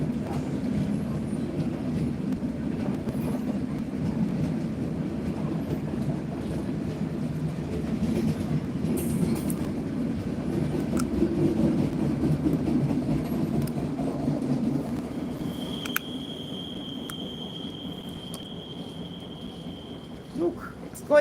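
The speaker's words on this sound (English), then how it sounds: "A very, very, very long train." A very long train rolls past continuously at moderate distance, a steady low rumble with faint wheel clatter running throughout, and a thin high tone appears near the end.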